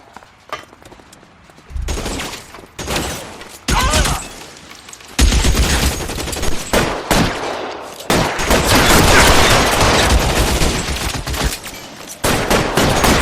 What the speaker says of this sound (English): Try shooting someone with a gun of his own.